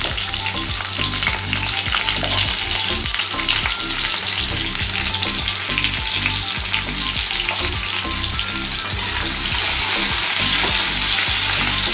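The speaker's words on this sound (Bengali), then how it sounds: "এবার আমি আলুগুলোকে একটু লাল লাল করে ভেজে নেব।" Potatoes frying in oil for a vegetarian cauliflower and potato curry, a steady, dense sizzle with crackling and occasional stirring scrapes that continues loud and close throughout, with no talking.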